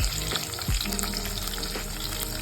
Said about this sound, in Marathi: कापलेला कांदा आपण प्रॉपर तळून घ्यायचा आहे दोन मिनिटासाठी